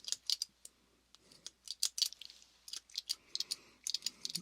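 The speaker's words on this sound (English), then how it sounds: "Very strange pair of scissors." A strange pair of scissors snips repeatedly in a quiet setting, making crisp close metallic clicks in irregular bursts, near and fairly soft.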